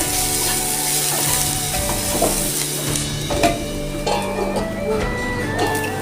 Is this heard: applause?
no